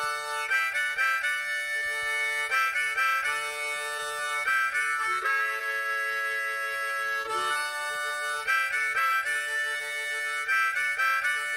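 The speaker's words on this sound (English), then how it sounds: "Harmonica." A harmonica plays a bright, reedy melody of sustained chords and short puffed notes, loud and continuous with no voices.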